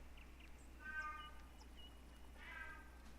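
A pet cat meowing indoors, two or three short, fairly faint mews spaced over a few seconds against a low steady hum.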